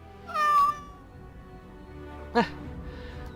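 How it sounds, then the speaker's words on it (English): A cat meows in the Dragon Age: Awakening video game: two short, clear calls, the first longer and louder, the second a brief higher cry a couple of seconds later, over a low game ambience. "He's a friend. And he's also a cat."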